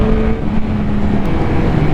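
Yamaha MT-09 SP naked motorcycle engine under throttle, a steady loud engine drone with a slowly rising tone, close and continuous with no talk.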